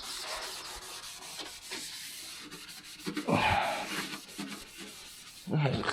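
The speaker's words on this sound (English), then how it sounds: "I'm just going to take a bit of green Scotch-Brite, just rough it up a wee bit" Green Scotch-Brite pad scuffing bare metal on a Mazda Miata MX5 after rust repair and welding, a close, dry rubbing hiss in uneven back-and-forth strokes, with louder scrapes toward the end.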